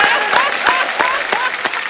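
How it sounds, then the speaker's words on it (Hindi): Studio audience applauding on a comedy talk show, steady dense clapping that holds strong and close throughout, with a few brief voices mixed in. "आपके लिए भी ताली"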